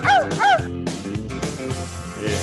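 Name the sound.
dog barking sound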